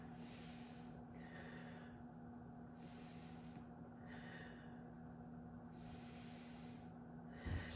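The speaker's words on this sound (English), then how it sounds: "take 3 full breaths" Deep, slow breathing during a supported yoga headstand, three long hissing breaths spaced a few seconds apart over a steady low room hum, close and fairly quiet.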